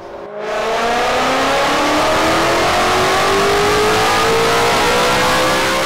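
A supercharged 3.0 L engine with a Gen 6 Stage 2 kit, pulled hard on a dyno, revs loud and close, its pitch climbing steadily through one sustained run with no talking.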